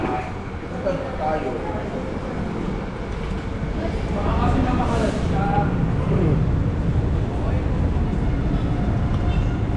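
A train rumbles past with a steady, loud roar, while people talk over the noise nearby.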